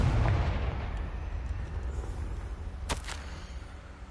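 A Confringo blasting spell detonates in the video game Hogwarts Legacy, opening with a heavy booming explosion that rolls off into a rumbling decay, followed by a couple of sharp crackling bursts near the end.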